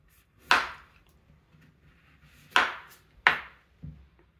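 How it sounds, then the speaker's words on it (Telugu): Sharp knife cuts trimming the stems off firm raw guavas, three crisp clean strikes spaced apart with a softer fourth tap at the end, close and alone. "ముందుగా జాంకాయకి ముచ్చికలు తీసేసుకుందాం."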